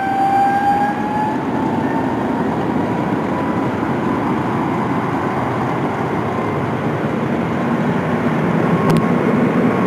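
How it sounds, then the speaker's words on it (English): A Boeing 777 aborting its takeoff under full rudder, heard as a loud, steady roar of jet engines and rushing air that holds for the whole stretch, swelling slightly near the end, with no voices. "This Boeing 777 aborting its takeoff and applying full rudder"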